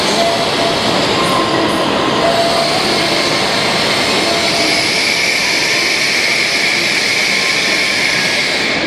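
A long Japan Railway train runs steadily on its rails, a loud continuous rumble and whoosh heard close by throughout, with no talking.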